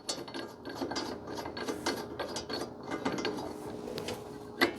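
Rapid ratchet clicking and grinding as a Hellcat brake caliper is bolted onto a Jeep Renegade spindle, close and continuous with a scraping edge, no voices.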